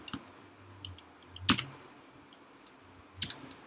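Someone types a word into MS Word on a computer keyboard, with a few sparse, soft key clicks and one sharper, louder tap in the middle against a quiet room hiss.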